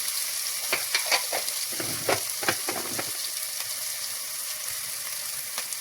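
Chopped small onions sizzle and fry in a pan while a spoon stirs them in a few scraping bursts, then the steady frying hiss carries on alone.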